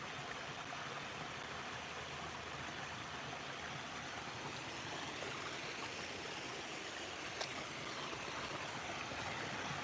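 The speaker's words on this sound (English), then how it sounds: "that little waterfall right there is new" A small waterfall flows over piled rock in a forest creek, giving a steady, broad rushing wash that stays even and unbroken throughout, with no voices.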